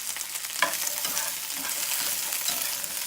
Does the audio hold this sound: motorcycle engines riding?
no